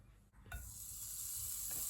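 Garlic hits a hot frying pan, and a soft hiss swells into a steady, close sizzle after a brief quiet start.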